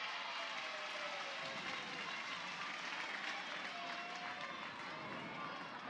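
A loud home crowd roars steadily through a college softball regional game between Cleveland State and Oklahoma, a dense, continuous wash of cheering and applause with no distinct voices standing out.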